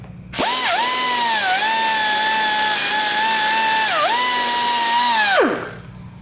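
A high-speed die grinder whines loudly as it smooths a casting ridge while porting a cylinder head, spinning up sharply, holding a steady pitch with two brief dips under load, then winding down.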